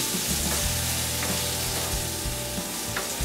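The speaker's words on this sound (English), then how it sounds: "we're going to give these a little bit of a stir again." Peppers and onions being stirred in a sizzling pan, steady frying hiss throughout with scraping stir strokes and a few sharp clinks of the utensil.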